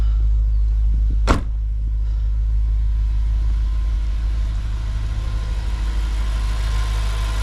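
A warmed-up 2007 Audi RS4 Avant B7 engine idles smoothly with a steady, deep, low hum, close and even from start to finish, broken by a single brief click early on.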